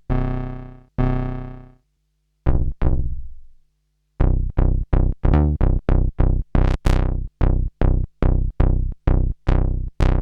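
Deep analog synth sub bass notes, a few long sustained tones and then a quick run of punchy plucked notes, loud and up front with no voices.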